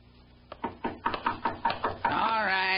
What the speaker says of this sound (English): He'd heard a knock at the door, and he was on his way to answer it.